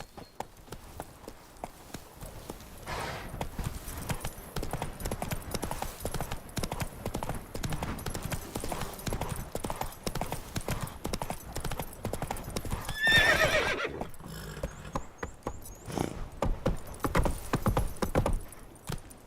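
A horse gallops steadily in The Witcher 3 video game, with rapid rhythmic hoofbeats throughout and a whinny midway, close and clear, with faint background sounds.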